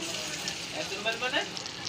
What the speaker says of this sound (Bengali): আর এদিকে বড়াগুলো আমি এখন ভেজে নেব।